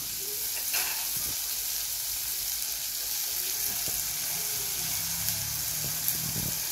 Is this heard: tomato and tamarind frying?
yes